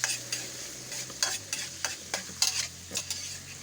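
Pork and baby corn stir-fried in a pan, with a soft background sizzle and regular, brisk scraping strokes of a spatula, roughly one every half second, close by.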